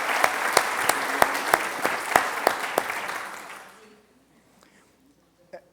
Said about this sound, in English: May I have a big round of applause for my wife, Dolores Conway.